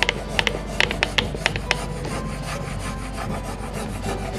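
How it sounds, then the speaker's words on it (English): A stick rubs hard over a furniture transfer on a wooden piece, making a close, steady rasping scrape with a few sharper scratchy strokes early on and a continuous grinding texture after. "Then you take your little stick and you start applying pressure."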